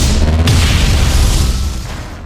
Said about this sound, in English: Let's see how you like my energy launcher.